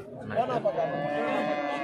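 A calf moos faintly in a short, wavering call at a livestock market in Chintamani, with murmuring voices and outdoor noise around it.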